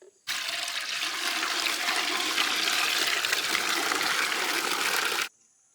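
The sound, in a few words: water being poured into a pot for heating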